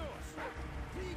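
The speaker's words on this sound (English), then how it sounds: "Somebody shut that dog up!" Dog barking and yipping in the video game Modern Warfare 3, a few short barks under loud game noise and someone shouting over them.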